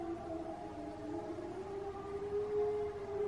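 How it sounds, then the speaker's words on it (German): A civil defense siren sounds in Germany as a steady, droning wail, heard from afar with low volume and a slight rise in pitch, continuous for the whole stretch over faint background hiss. "also unsere Sirenen funktionieren"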